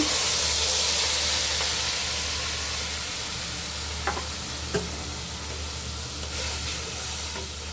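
Boiled potatoes tipped into a hot pan for a bitter gourd and drumstick curry, then steadily stirred and sizzling, with a continuous close fry hiss and a few sharp scrapes of the spoon against the pan.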